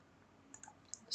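Computer mouse clicked a few times during geology software work, short faint sharp clicks over a low steady hum.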